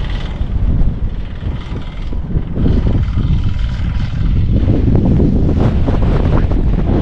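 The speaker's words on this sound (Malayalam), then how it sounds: "മൊത്തം ഒരു ഭയങ്കര കാറ്റാണ് ഇവിടെ, നമ്മളെ പറത്തിക്കൊണ്ടു പോകുന്ന ടൈപ്പ് ഒരു കാറ്റാണ് ഇവിടെ ഉള്ളത്." Strong gusting wind on Parunthumpara hilltop in Idukki, Kerala, buffets the microphone in loud, rough roaring bursts that swell and persist for the whole stretch with no voices.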